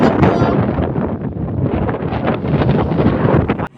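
Strong wind on a Philippine mountain top roars loudly and continuously across the microphone, a dense rushing noise that stays intense throughout before a brief dip near the end.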